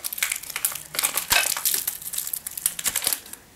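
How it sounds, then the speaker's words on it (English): Knife cutting through a milky hazelnut wafer slice, a crisp layered wafer bar made in Germany, giving a run of close, dry crunching and crackling snaps over a few seconds, with no talking. "Let's cut with the knife"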